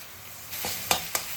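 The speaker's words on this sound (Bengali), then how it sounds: "রসুনটাও আমি একটু ভালো করে ভেজে নেব" Garlic paste fries with onions in white oil for a banana-flower kofta curry, a light sizzle broken by three sharp spatula scrapes against the pan.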